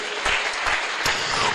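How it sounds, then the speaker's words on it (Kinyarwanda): A church audience applauds at a sermon, a short burst of dense clapping that is loud and close, with no voices over it. "Tumukomera amashyi cyane."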